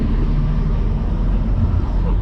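Nissan Skyline R34 coupe driving on the road, a steady, fairly loud low engine drone and road rumble from inside the cabin, with faint talk underneath.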